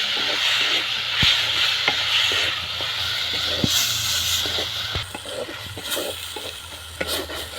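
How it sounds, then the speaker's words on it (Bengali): Turmeric, chili, coriander and cumin paste masala frying in a pan for a crab curry, a steady sizzle and hiss with scattered scraping stirs and clicks, close and continuous with no one talking. "হলুদ বাটা লঙ্কা বাটা ধনে জিরে বাটা একসঙ্গে দিয়ে দেবো সব মশলা কষিয়ে নেব"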